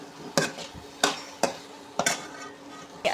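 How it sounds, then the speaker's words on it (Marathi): A spatula stirs okra in a kadhai that wobbles on an electric stove, giving sharp metallic scrapes and clanks about every half second over a faint sizzle. "आणि भाजीला हे असं हलवत राहायचं आहे"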